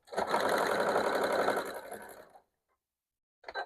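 A sewing machine stitching quilt panel pieces, running in a fast steady whir for about two seconds before stopping, then a brief handling noise near the end.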